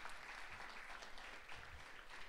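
Audience applause at the 10th annual Panther Leadership Summit, a steady wash of clapping from a crowd that holds level throughout, moderately distant and without speech over it.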